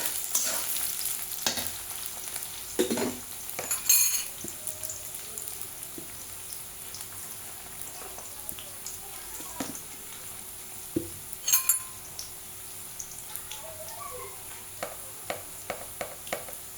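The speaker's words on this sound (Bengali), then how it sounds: "আমি পেঁয়াজটা একটু ব্রাউন কালার করে নিব" Onions frying and being stirred in a pan for a spicy chicken and potato curry, a steady low sizzle broken by repeated stirring scrapes and occasional sharp clinks of the spoon against the pan, with no talking.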